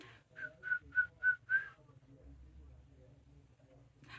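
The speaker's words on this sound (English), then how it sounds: "I can kind of whistle." A person whistles five short, fairly clear notes in quick succession, then stops, leaving a faint quiet room with low background hum.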